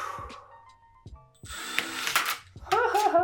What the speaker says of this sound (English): we're just gonna do our best here and drill through